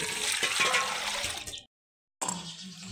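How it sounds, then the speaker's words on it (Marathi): Tap water running over hands being washed after making lentil vadis on a grinding stone, a steady close splashing rush that cuts out briefly and resumes. "वड्या घालून झाल्या, आता घेतो हात धुवून"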